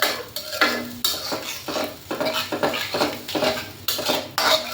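Sour yogurt stirred into a Bangladeshi rui fish curry in a pan over low heat, a spoon scraping and clinking against the metal in repeated strokes with a faint sizzle underneath, close and fairly loud.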